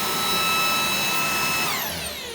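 A Xiaomi cordless vacuum cleaner runs with a loud, high motor whine, then the pitch sweeps downward as it powers off near the end.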